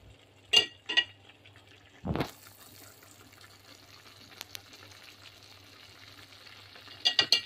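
Spring onion is stir-fried in a pan for Hokkien mee noodles, with a faint steady sizzle and a few sharp scraping and tossing bursts of the utensil near the start and end.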